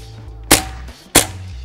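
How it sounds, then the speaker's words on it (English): Two sharp, loud cracks about half a second apart as pointed pellets fired at 500 feet per second strike the ABS shell of a Biltwell Gringo retro helmet during puncture testing, each impact ringing briefly over a low background hum. "We shoot pointed penetrating pellets at 500 feet per second to test puncture strength."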